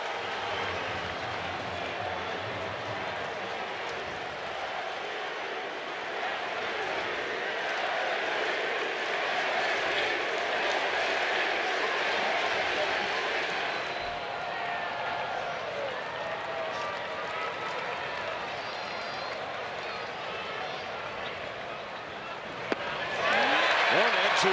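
Crowd at a baseball stadium roaring for Shohei Ohtani pitching for the Angels against the Athletics, a steady loud cheer that rises and falls under a commentator's voice, with a sharp surge right at the end.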